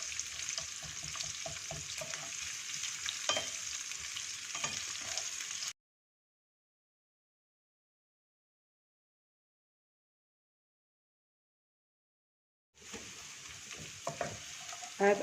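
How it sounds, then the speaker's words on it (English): Onions with chilli powder, turmeric, salt and leftover masala sizzling in a pan while being stirred, with scraping strokes over a steady hiss; the sound cuts out to silence for several seconds, then resumes. "I have added chilli powder, turmeric and salt to the onions and the leftover masala. I'm just stirring it around."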